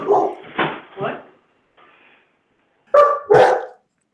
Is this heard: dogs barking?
yes